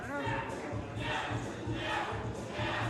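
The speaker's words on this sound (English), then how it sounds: "The crowd is electric." A wrestling event crowd cheering and roaring steadily throughout, with a commentator's voice talking over the noise.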